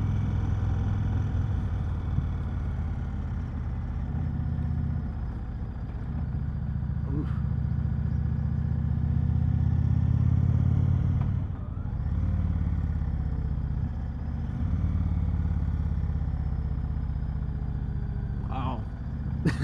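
A bagger motorcycle cruises at about 30 mph on a 15 mph road, with a steady, close low engine drone and road rumble throughout and a few brief clicks near the end.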